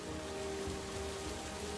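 Steady rain falls across the methane-shrouded landscape of Saturn's moon Titan, a continuous soft hiss of drops with a low rumble beneath and no voices.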